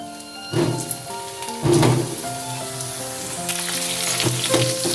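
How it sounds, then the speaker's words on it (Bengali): Medium diced potato cubes fry in hot mustard oil with bay leaf and whole cumin, giving a steady close sizzle with a few stirring clunks of the pan. "আলুটা ভেজে নিচ্ছি"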